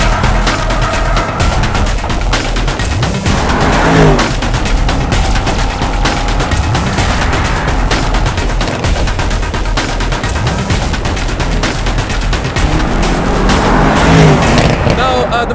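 A Mercedes AMG E63 S runs loud and hard throughout, its engine revving and rising with crackling bursts. Tire noise and a person speaking come through over it.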